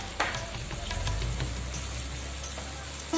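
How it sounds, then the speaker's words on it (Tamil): Pieces of banana dough deep fry in oil for a sweet banana toffee. A soft, steady sizzle and bubbling continues, fairly quiet and uninterrupted. "நல்லா டீப் ஃப்ரை பண்ணிடுங்க."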